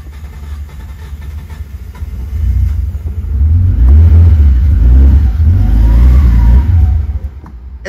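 A Nissan 240SX fitted with an RB25 engine, running without an intercooler and with a fuel leak, starts and revs. The loud, close engine builds from a rumble into a sustained rev, then eases off near the end.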